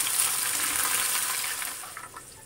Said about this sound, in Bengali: কড়াইতে দিয়ে দেবো ঘি, বেশ খানিকটা ঘি দিয়ে দিলাম